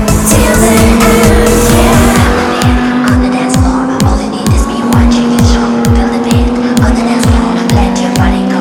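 GT cars driving hard on a race circuit, engines roaring loudly and close with repeated rapid gear-change sweeps, tyres squealing in a sustained high whine under the continuous engine noise.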